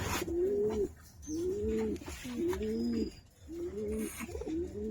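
Close, rhythmic cooing from Giribaz and coloring pigeons: about five rolling, throaty coos in a row, each a few tenths of a second apart, over a faint background hiss with no voices.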